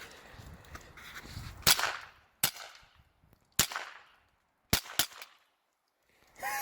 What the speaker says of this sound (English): I'll shoot 6 shots.